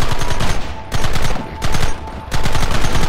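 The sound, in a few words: gunfire from Red Dead Redemption video game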